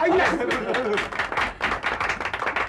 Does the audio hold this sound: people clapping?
yes